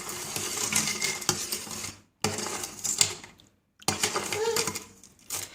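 Gold and silver jewellery is stirred around in a cleaning solution, making close, busy metallic clinks and rattles in bursts, broken by two short silent pauses.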